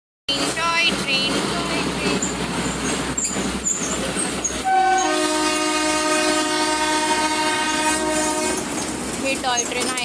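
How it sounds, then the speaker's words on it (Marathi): Matheran toy train running close by, with rhythmic wheel clatter on the rails followed by a long, loud horn blast in its second half; people talk over the noise. "हे टॉय ट्रेन आहे इन माथेरान."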